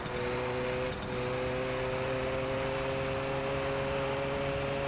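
A car engine runs steadily in the video game My Summer Car, a constant droning hum with a whining tone, at moderate level throughout and no voices.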